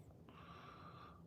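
Dog named Lois coughing, a short raspy, breathy hack heard faintly at a distance over quiet room tone, no talking.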